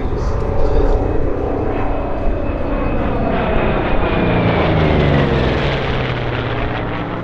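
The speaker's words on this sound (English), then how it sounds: "these were the very first two aircraft flown by the United States Navy Blue Angels." Grumman Hellcat and Bearcat Navy piston fighters passing at an airshow, a loud continuous propeller-engine roar swelling and shifting in pitch as they fly by, with no break in the sound.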